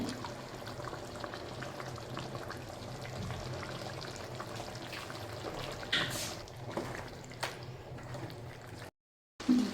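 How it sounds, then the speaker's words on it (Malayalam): Ground cashew, coconut and yogurt paste goes into cooked chicken for a restaurant-style chicken biryani, giving a faint, wet pouring and bubbling sound with a few soft clatters and a brief silent gap near the end. "അണ്ടിപ്പരിപ്പ് തേങ്ങ തൈര് ഇതൂടെ മിക്സ് ചെയ്ത് ഞാൻ ചേർക്കുകയാണ്"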